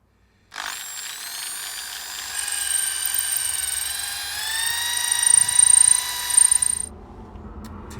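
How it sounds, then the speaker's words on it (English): A drill bores through the wooden body of a nguru flute: a high, steady whine starts abruptly, holds with slight shifts in pitch and strain for about six seconds, then cuts off, close and loud. "we've successfully drilled through this part here, through the center, and drilled to about 3/4 of the way"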